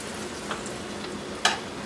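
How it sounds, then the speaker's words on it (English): Chicken sizzles and crackles steadily in a hot pan, with a couple of sharper pops and scrapes. "Get a little bit of sizzle going on."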